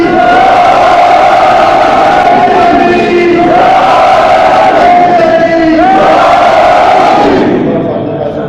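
A large crowd at a religious gathering for Allama Khorshed Anwar Jawadi, shouting the Nara-e-Haidari slogan in loud, sustained unison, with repeated rising chant phrases that stay close and powerful throughout.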